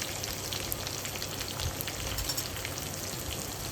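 Curry leaves, mustard seeds and asafoetida sizzle in hot oil, a soft, even crackle and spatter running steadily like light rain, fairly quiet and close.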